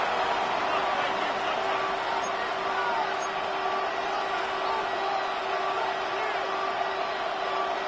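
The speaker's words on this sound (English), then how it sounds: "the crowd getting into it as we come up on a big third down" A football stadium crowd roars in a steady, dense wash of cheering and whooping, continuous and moderately loud, with voices mixed into the din.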